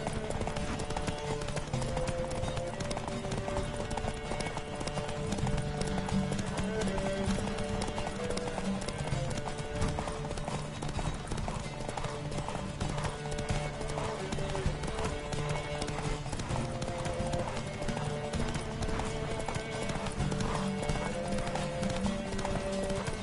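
Horse hooves galloping in the Witcher card game Gwent, a steady rapid clip-clop sustained throughout over a backdrop of music.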